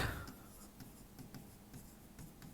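Writing on a board during a class 9 maths lesson makes faint, quiet scratchy strokes that repeat in short irregular bursts.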